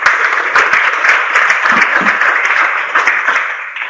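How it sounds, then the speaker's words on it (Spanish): Audience applause for a professor at a business-process webinar, a dense steady clapping from a nearby crowd lasting throughout, with no talk over it. "Les pido un aplauso al profesor para comenzar."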